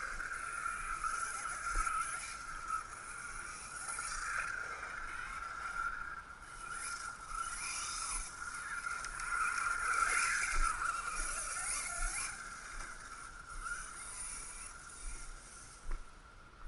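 An ARRMA Mojave 6S RC car running fast across a lawn, giving a steady high electric motor whine that rises and falls, with faint scraping and rustling, heard from a moderate distance.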